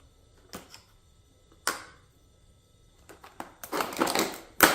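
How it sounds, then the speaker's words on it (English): Diagonal cutters snip through plastic straps in a few sharp, separate clicks and crunches, close and fairly quiet, with short gaps between cuts and a denser burst near the end. "I need to grab a pair of scissors real quick. Or diagonal cutters"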